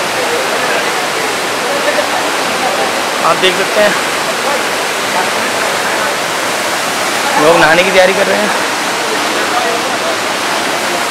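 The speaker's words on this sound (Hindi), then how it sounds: "पानी बहुत जोर से गिर रहा है।" Bhatta Falls waterfall near Mussoorie, water pouring down forcefully: a loud, constant rushing roar that fills the whole scene, with someone talking over it.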